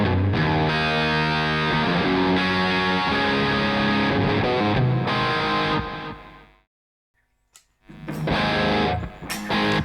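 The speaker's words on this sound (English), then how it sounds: "long press, and you activate the reverb" Distorted electric guitar chords ringing with a spacious reverb tail, fading into near silence before a loud strum returns.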